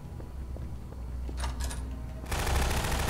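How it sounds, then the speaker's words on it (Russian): Gunfire in the video game Garry's Mod: a few faint shots, then a brief burst, then a loud rapid volley of automatic fire that runs to the end, with no talking. "Слышу выстрелы, слышу выстрелы."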